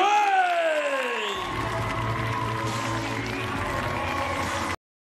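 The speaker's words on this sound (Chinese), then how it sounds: "掌声有请来自中国的" Arena crowd applauds and cheers for a Chinese woman fighter introduced before a 56 kg women's kickboxing bout at a WLF event in Prague; a loud voice rings out over the crowd at first, then a steady roar of clapping continues before cutting off.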